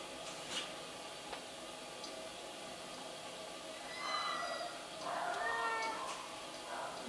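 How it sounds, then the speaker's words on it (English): A cat meows a few times at moderate distance, short drawn-out cries over a steady outdoor background hiss with faint clicks. "Oh, pretty cat."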